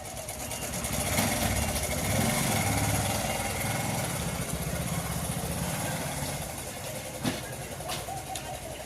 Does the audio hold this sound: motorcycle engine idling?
yes